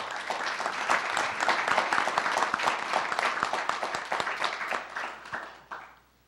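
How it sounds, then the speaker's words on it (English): Audience applause for city officials, including police department members, at a mayor's State of the City address, a steady wash of many hands clapping throughout that fades out at the end. "If you could give them a round of applause, please"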